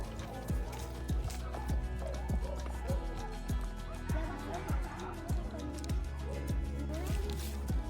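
A horse walks under a rider during a riding lesson, its hooves clip-clopping in a steady, even rhythm close by, with people talking faintly in the background.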